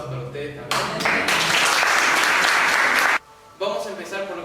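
Audience clapping at a talk, a broad steady burst of applause that fills most of the moment, stops abruptly, then resumes more lightly; a voice is heard faintly before and after.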